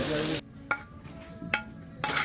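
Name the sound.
sizzling plate of food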